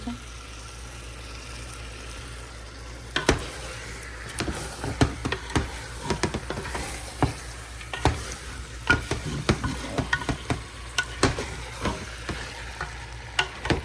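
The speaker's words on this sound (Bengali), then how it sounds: "বেশ কিছুক্ষণ কষাইতে হবে" Chicken curry sizzles steadily in a pan while a spoon scrapes and stirs it in irregular, clattering strokes, close and fairly quiet over the constant frying hiss.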